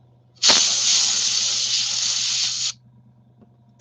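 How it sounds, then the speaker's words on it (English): Airbrush spraying paint onto a model Sdkfz 251 halftrack: one steady, close hiss of about two seconds that starts and cuts off sharply, with a low hum underneath and nothing else. "there's no brush marks with the airbrush"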